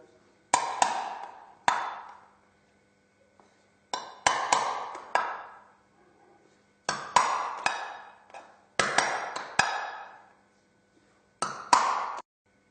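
A nail is hammered through a short tin can to punch holes, making sharp metallic taps with ringing decay in groups of two or three, separated by quiet pauses, close and clear.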